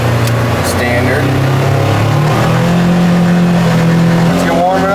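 A Polaris side-by-side utility vehicle with a cold, not-yet-warmed engine idles and revs in a loud, steady drone with shifting pitch, close up, while people talk over it.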